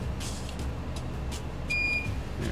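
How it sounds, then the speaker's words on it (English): A board repair tool gives a single clear electronic beep when it reaches temperature, a short steady tone rising over a loud low rumbling background. "It beeps to let you know that you got it up to temperature."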